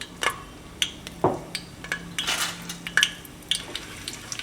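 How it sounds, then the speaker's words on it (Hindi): Two bay leaves and coarsely pounded spices go into hot oil for a street-style veg soya biryani, with sharp metallic clinks of a spoon against the pan and a soft sizzle in between, close by. "तेल हमारा गर्म हो गया है तो डालते हैं 2 तेज पत्ते। जो हमने मसाला कूटा था दरदरा वो डाल देते हैं।"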